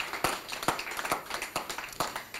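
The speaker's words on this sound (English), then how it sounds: "A round of applause for her." Scattered hand claps from a small audience at a Nigerian taxation students' event, honoring a quiz winner; several distinct sharp claps spaced irregularly over a dense clattering background, moderately near.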